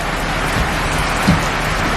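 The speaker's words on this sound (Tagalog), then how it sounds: "grabe ang lakas ng ulan" Heavy rain pours steadily, a dense continuous wash of noise with a faint low rumble, close and loud with no voices.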